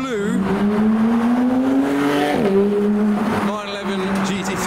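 A car pulls away hard at a wet car meet among Porsches and a Ferrari, engine note rising steadily through the revs with a brief dip and tyre slip, loud and close, with a voice talking alongside.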